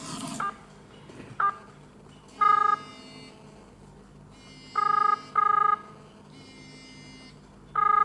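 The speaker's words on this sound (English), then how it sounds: "now it is calling my phone." A phone rings for a call from a Tracksafe Junior tracker, giving short repeated electronic tone bursts at uneven intervals over a quiet background hum.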